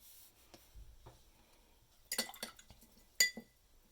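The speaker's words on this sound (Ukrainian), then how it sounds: "вимиваю пензлик" A paintbrush is rinsed in a glass water jar during a watercolour painting lesson: mostly quiet, then a few brief, sharp glassy clinks as the brush taps the jar's rim.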